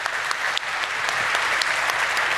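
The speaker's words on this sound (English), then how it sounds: "I want a big round of applause" A conference audience gives a round of applause after a panel discussion, a steady dense clapping throughout with a few sharper claps standing out.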